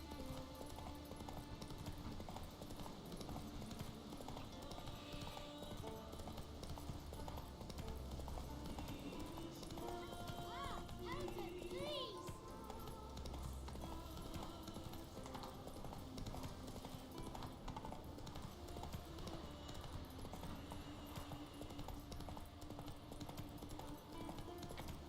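Roach the horse trots in The Witcher 3, hooves clip-clopping at a steady pace under a constant game ambience, with no voices.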